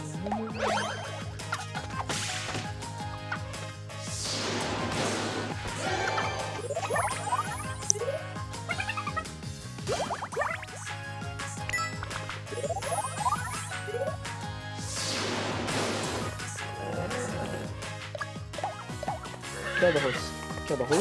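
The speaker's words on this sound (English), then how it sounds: "Horse!" Horse neighing during a battle attack in the video game Miitopia, with several loud whinnies over game music and hits, clip-clops and chimes, alongside some speech.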